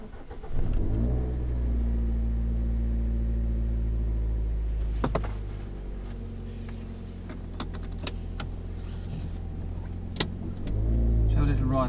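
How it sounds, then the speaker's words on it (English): Toyota RAV4 2WD on a test drive around the block, a steady low engine drone inside the cabin with a couple of gear changes and small clicks and knocks, while someone talks over it. "Let's have a little ride around the block, shall we?"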